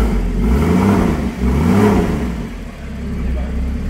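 A Porsche Cayman GTS engine revs in two rising and falling blips as its exhaust valves open, a loud, close rumble that then eases into a steady drone.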